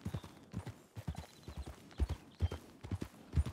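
Horse hooves clip-clop in a steady walking rhythm within a ranch roleplay video game, crisp hoof strikes repeating several times per second, quiet and with no voices.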